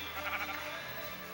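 Sheep bleat in a tablet game, one wavering bleat rising near the start and fading, steady and moderately loud with no talking.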